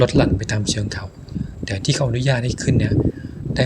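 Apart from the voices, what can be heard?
No everyday noise stands out behind the speech.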